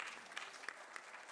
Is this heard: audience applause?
yes